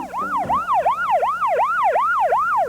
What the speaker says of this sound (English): That police car is leading us to our next question.